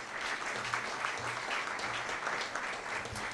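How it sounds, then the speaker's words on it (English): A luncheon audience at a chamber of commerce event gives a round of applause, steady and dense clapping from many hands that holds evenly throughout. "Give her a round of applause."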